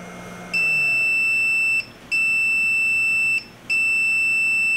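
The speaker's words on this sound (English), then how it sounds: "there's a beeper, green light letting you know it's done" A PolyMaker PolyDryer filament dryer signals completion with three long, steady electronic beeps separated by brief gaps, clear and close over faint room noise.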